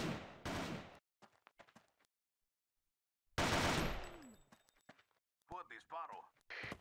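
Video game gunfire comes in loud rapid bursts split by stretches of near silence, with a voice speaking between volleys.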